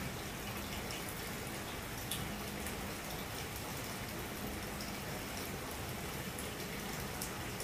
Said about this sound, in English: now we're just going to go ahead and top this off with some water